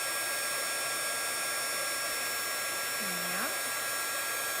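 A heat embossing tool blows hot air over copper embossing powder on vellum, a loud, constant close-up whooshing hum that runs without a break, with a brief voice under it.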